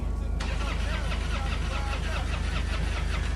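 In a radio drama, a car engine cranks over and over without catching, a steady rhythmic chugging that runs loud and unbroken throughout.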